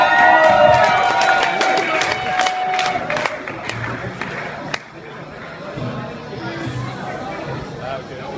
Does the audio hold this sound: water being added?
no